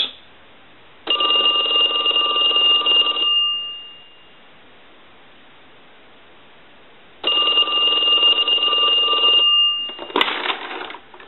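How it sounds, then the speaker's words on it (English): An old Western Electric telephone bell rings in two long bursts separated by a pause of silence, loud and close, followed by a brief clatter. "we'll go ahead and ring the telephone"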